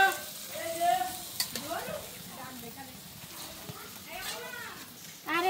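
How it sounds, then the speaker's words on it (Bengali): Meat is stirred and fried in a large pot at a crowded gathering, a soft continuous sizzle with scraping strokes underneath, while voices talk nearby over a busy background murmur. "এই যে মাংস দিয়ে দিছে অলরেডি"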